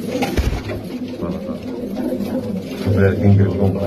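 Fancy domestic pigeons and doves coo in a low, throaty rhythm close by while someone talks over them; the cooing swells toward the end and rises above the voice.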